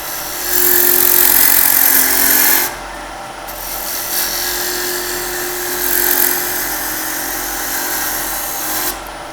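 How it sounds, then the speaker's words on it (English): Woodturning lathe spinning around 2000 RPM while a Crown Cryo 3/8 bowl gouge with a swept-back wing trues up a blank for a spinning top, a loud steady scraping hiss that drops briefly, then resumes at a slightly softer level. "I'm just going to start by truing up this bit of wood with the Crown Cryo 3/8 bowl gouge"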